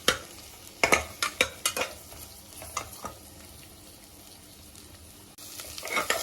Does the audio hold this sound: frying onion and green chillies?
yes